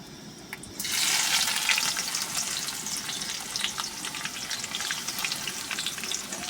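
Onions hit hot oil with dried chilli and bay leaf before chicken goes in, cooked on a small stove inside a truck. A sudden loud sizzle bursts out and keeps going as a dense crackling fry.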